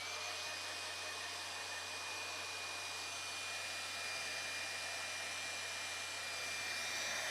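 A heat tool blows steadily on embossing powder for a card project, a constant loud whirring hiss like a hair dryer that runs unbroken from start to finish, close to the microphone, with no talking.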